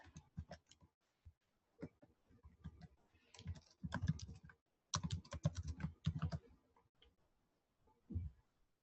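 Computer keyboard typing in irregular bursts of quick clicks, fairly close and moderately loud, with short pauses between flurries and no talking.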